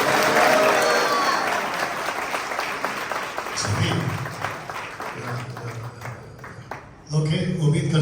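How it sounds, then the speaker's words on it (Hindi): A church conference congregation bursts into loud, sustained applause and cheering, with voices shouting over the clapping, and a speaker's voice rising above the crowd toward the end. "एक चिल्लाकर यीशु के लिए ताली या हालेलुया जोर से"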